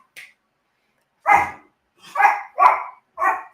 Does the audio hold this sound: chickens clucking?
no